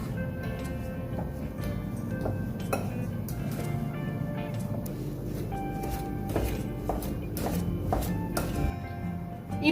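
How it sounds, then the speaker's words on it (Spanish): A fork mashes strawberries with powdered sugar in a bowl, giving repeated sharp taps and clinks against the dish over a continuous soft squishing bed, close and steady throughout. "Seguimos pisando con el tenedor."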